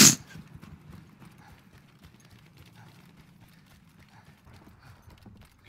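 Horse hooves clip-clop in a steady quick rhythm in the video game Battlefield 1, faint and continuous after a brief loud burst at the start.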